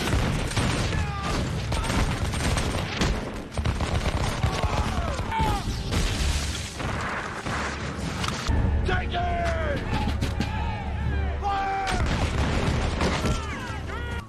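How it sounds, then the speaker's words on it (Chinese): Musket volleys crack out in a war-film battle scene from the American Revolutionary War, with repeated bursts of gunfire, booms and clashing commotion, with a voice speaking over the din. "看到骑兵队冲击，本杰明命令开枪，然后撤退"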